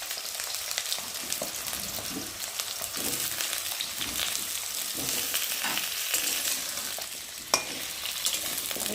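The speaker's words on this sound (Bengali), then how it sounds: "আর এখন আলুগুলো দিয়ে ভালো করে ভেজে নেবো" Potatoes fry in a pan after being boiled, giving a steady, close sizzle with occasional scrapes of stirring and a sharp clink near the end.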